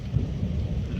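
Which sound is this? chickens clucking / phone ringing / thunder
thunder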